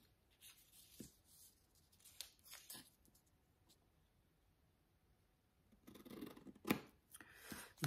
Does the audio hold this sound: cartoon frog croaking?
no